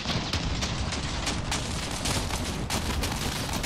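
Dense, relentless gunfire from many vehicles in the Crossout battle, near and loud, a continuous barrage of overlapping shots and blasts with sharp individual cracks punching through throughout.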